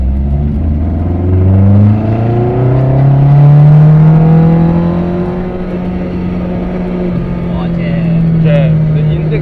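A Toyota AE86 fitted with a naturally aspirated 9AGE engine revs loudly up and down nearby in a smooth rising and falling tone, with people talking over the engine.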